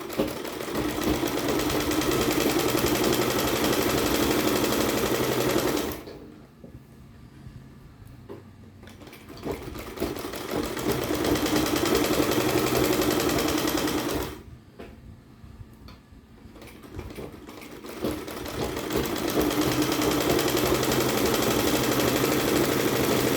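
A sewing machine stitches fabric in long, steady, loud runs of rapid mechanical clatter, stopping twice for several seconds between runs.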